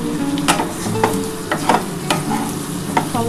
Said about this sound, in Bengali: এবার ভালো করে এটা নাড়াচাড়া করে নিতে হবে